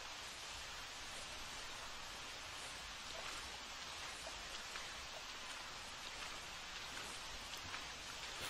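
Constant, dense rainfall patter in the video game theHunter, in a bayou, an even wash of drops hitting surfaces with no voices and no letup.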